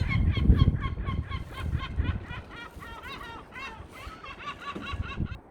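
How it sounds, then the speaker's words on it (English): Gulls call out in a series of harsh, repeated squawking cries at moderate distance, layered over a low rumbling background with some wind. "our not so friendly neighborhood seagulls making a noise over there"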